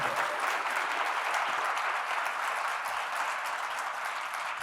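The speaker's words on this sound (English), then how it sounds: "give yourselves a round of applause" A conference keynote audience gives steady, dense applause that holds evenly loud for several seconds without any speech over it.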